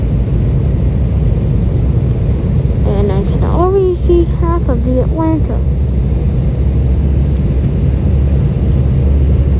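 Steady, loud roaring cabin noise inside an airliner near landing, a continuous low rumble with a voice speaking briefly over it.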